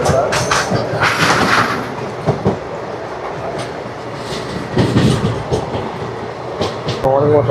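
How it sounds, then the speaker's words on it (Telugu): The Tirupati Express runs on Indian rails while tanker wagons pass alongside, giving a loud, close rumble with rhythmic clickety-clack and occasional heavy thumps throughout. "పక్కనే ట్యాంకర్లు అయితే వెళ్ళిపోతున్నాయి"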